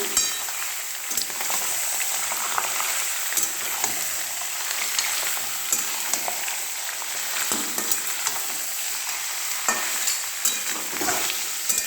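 Mutton pieces fry in a hot pan in a village kitchen, crackling and sizzling continuously, with repeated scraping stirs and occasional clinks of a spoon against the metal, close and fairly loud.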